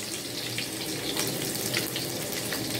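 Chopped onion sizzles and hisses steadily in a hot pan while being browned for shrimp sinigang, a constant, moderately quiet sizzle with no talking.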